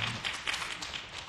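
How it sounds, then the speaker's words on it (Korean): An audience at a Korean church Bible study gives a short round of light clapping, faint and somewhat distant, with a few sharper taps standing out briefly. "박수 한번 해주시기 바랍니다"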